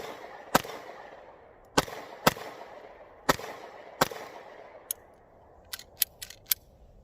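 A Diamondback DB9 pistol fires several sharp single shots at uneven intervals, crisp and fairly close, followed by a quicker cluster of lighter clicks and cracks near the end.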